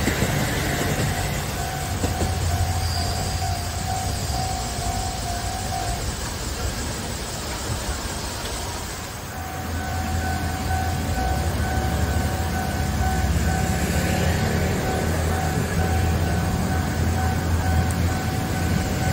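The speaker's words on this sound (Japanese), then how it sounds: "電車と列車が並走します。" A Kagoshima streetcar and a JR train rumble along side by side near the Nanko crossing, with a continuous low roar and clatter, a crossing bell tone sounding through much of it, no voices.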